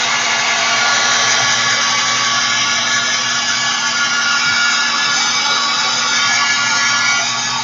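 Heat tool heat-setting stamped ink on an art journal page: a steady, loud, continuous blowing whir with a fixed motor hum that holds evenly from start to finish, close and alone.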